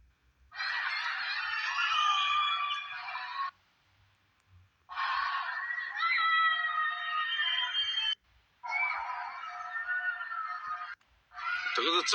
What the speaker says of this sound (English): Shanghai residents scream after being stuck in their homes during the latest coronavirus restrictions.